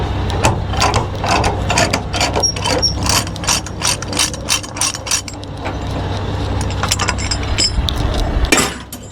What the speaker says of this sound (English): Loosen up these chains first. Take off these binders.